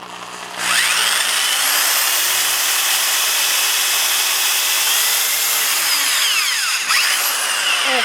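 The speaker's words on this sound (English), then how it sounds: "I'm going to drill a hole in there" A power drill whines steadily as it bores into wood, loud and close, the motor pitch shifting slightly as the bit cuts through.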